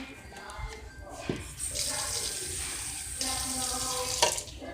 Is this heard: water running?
yes